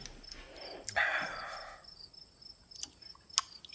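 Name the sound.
cricket chirping sound effect added in editing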